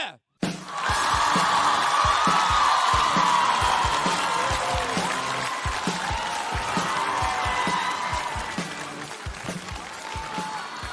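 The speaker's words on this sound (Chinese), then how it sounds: "掌声有请王悦" A studio audience at a stand-up comedy semi-final bursts into loud, sustained applause and cheering to welcome a comedian, the clapping holding dense and steady for about ten seconds before easing slightly.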